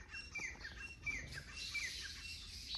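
Small birds chirp and tweet repeatedly inside a temple, faint and somewhat distant, with overlapping high calls over a quiet background hum.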